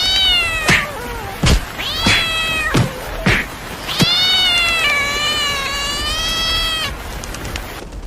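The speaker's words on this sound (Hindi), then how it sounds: "अरे ये खतरनाक बिल्ली इतनी जोर जोर से आवाजें क्यों निकाल रही है?" Cartoon cat chasing a bird yowls loudly again and again, a string of close, drawn-out wailing meows broken by a few sharp thwacks, ending in one long sustained caterwaul.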